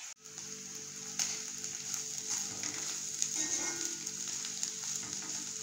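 Egg and capsicum cooking in a pan give a soft, even sizzle with light crackles and occasional stirring scrapes throughout, fairly quiet and close, with no talking.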